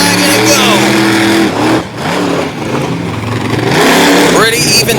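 Monster trucks roar off the starting line at a Honesdale, Pennsylvania event, engines revving hard and loud with rising and falling pitch as they accelerate, while an announcer talks over them.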